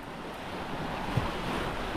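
Sea waves wash steadily along a rocky beach, a continuous soft surf hiss with faint wind and no voices.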